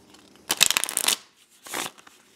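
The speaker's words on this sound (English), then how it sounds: "We shuffle cards." A deck of Magic the Gathering cards is riffle-shuffled up close, a crisp rapid flutter of cards lasting about half a second, then a second shorter riffle.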